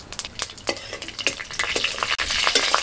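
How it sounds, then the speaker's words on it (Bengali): Dried and fresh chillies with whole mustard seeds frying in mustard oil in a wok, a bright crackling sizzle broken by repeated scrapes and stirs of a utensil against the metal, no talking. "আবার আমি কড়াইতে সরষের তেল দিয়ে দিচ্ছি, তেলের মধ্যে দিয়ে দিচ্ছি দুটো শুকনো লঙ্কা, দিচ্ছি গোটা সরষে"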